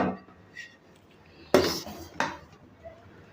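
A lid or plate clatters down over a ball of paratha dough in a kitchen: two sharp metallic clanks a moment apart, close and loud, after a quieter stretch.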